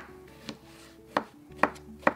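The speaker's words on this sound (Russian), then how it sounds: "Грушу нарезаем кусочками средней величины." Four sharp knife chops through pear on a cutting board, evenly spaced and close, with quiet room background between strikes.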